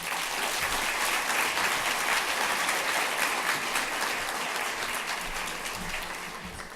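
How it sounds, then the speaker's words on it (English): Gala audience at an attorneys' association awards dinner breaking into applause, dense continuous clapping from a large room, full and steady before tapering slightly near the end. "let's give her another round of applause."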